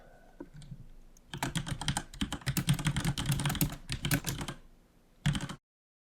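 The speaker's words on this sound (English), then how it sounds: "We can choose the gender, if it's a male or female voice, and we just type in our text." Fingers type text on a computer keyboard in quick, close clicking bursts, with a brief pause before a final short flurry of keystrokes.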